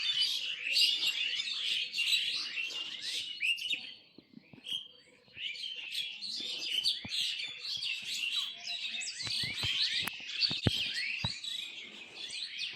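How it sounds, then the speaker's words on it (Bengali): Common myna birds call on a foggy morning, a dense, continuous stream of chirps and whistles from several birds nearby, easing briefly in the middle before picking up again. "এই যে পাখি, শালিক পাখি,"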